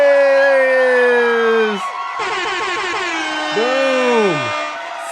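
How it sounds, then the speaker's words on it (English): Loud air horn blasts boom out at an event, a long sustained tone that drops off, then a dense stacked horn chord, with crowd noise and cheering mixed underneath. "I remember that air horn from last time."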